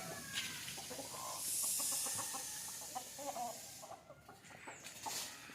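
Native country chickens cluck and murmur in a busy, close chorus inside a coop, with a higher squawk rising above the steady clucking.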